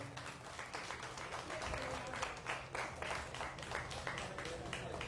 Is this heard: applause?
yes